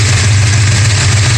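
A 1969 Dodge Charger with a 440 engine and a history of exhaust header banging idles steadily, a deep, loud, even rumble up close, with no knocking and no voices.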